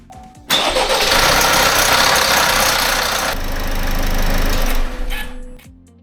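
An Opel Mokka 1.6 CDTI diesel engine turns over and runs at a steady, loud, clattering idle for several seconds, then dies away near the end.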